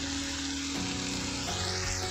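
Vegetables sauté with turmeric, chili powder and garam masala for a Hyderabadi vegetable biryani, making a steady, close frying hiss with a faint tonal hum underneath and no voices.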